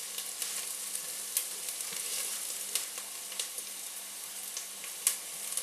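Congolese spinach sizzles in a hot pan, a soft steady frying hiss broken by small crackling pops, alone with no voices.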